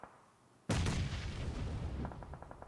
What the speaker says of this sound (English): Nades continue to pour on in over the top line